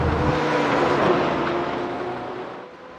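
Race cars speed around the Monza circuit in a racing video game, a steady loud engine drone that holds strong before easing off toward the end.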